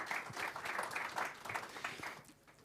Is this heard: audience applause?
yes